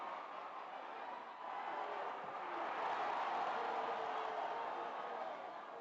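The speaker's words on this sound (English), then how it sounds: "The Chula supporters are cheering for everything now" Chula Chula supporters cheer in a football stadium during the closing seconds of a match against African Stars, a steady distant crowd roar swelling slightly and holding without breaks.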